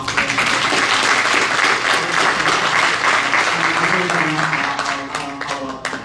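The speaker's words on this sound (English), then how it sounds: "You guys should give another round of applause for them." An audience gives panel members a sustained round of applause, steady dense clapping in a hall with some voices mixed in, tapering near the end.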